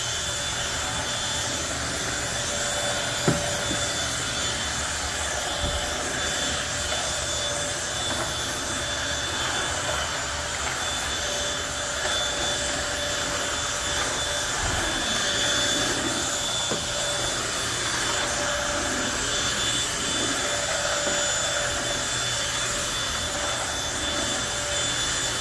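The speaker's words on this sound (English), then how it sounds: "I still have the Bissell 3-in-1 vac" A Bissell 3-in-1 turbo vacuum cleaner runs in a hotel room, a steady airy whine with a constant high tone, with a few faint knocks as it moves and no talk.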